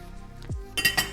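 Lomo saltado being shaken and stirred in a pan: a short scrape and a low pan shift, then a few bright metallic clinks of a utensil against the pan, close and brief.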